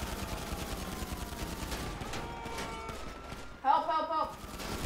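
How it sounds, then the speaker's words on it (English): Gunfire in the Grand Theft Auto V video game: rapid bursts of shots rattle under steady game noise, with a louder ringing volley near the end and a voice talking over it. "Help me shoot, Star Strike. Help me shoot"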